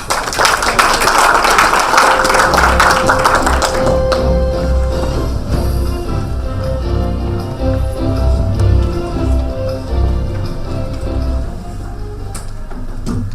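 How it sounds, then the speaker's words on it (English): Applause for a keynote speaker at a life sciences conference fills the hall as a dense wash of clapping, loud at first and then thinning to scattered claps with muffled room noise. "Let's give him a round of applause."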